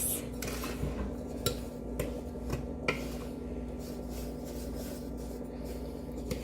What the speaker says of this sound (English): I'm just gonna add my salt to my flour, give it a little bit of a mix.